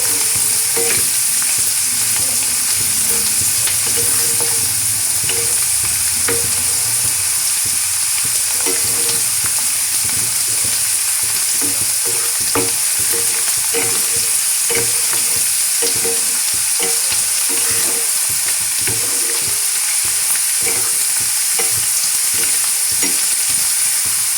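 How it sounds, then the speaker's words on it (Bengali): Onions fry loudly in a pan with a continuous close sizzle and crackle that runs steadily throughout, with a faint high tone riding over it. "পেঁয়াজটা একটু ভাজা ভাজা মতো হলে আমি রসুন দেবো তারপরে"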